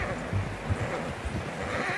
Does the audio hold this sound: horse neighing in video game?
yes